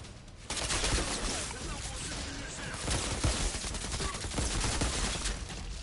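Dense, continuous gunfire and bursts of automatic weapons from the video game Outriders, loud and steady throughout, with players shouting over the shooting.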